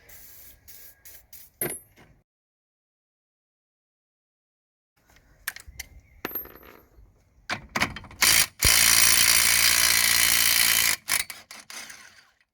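Ratchet wrench working loose the drive shaft nut on a Hyundai Getz hub: short clicking bursts, a silent gap, then a loud, sustained harsh rasping run of several seconds before trailing clicks, close by.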